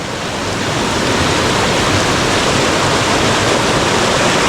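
Swollen flood water rushes loudly through a river stream channel after heavy night rain in the Konkan, a dense, constant roar close by with no pauses or voices.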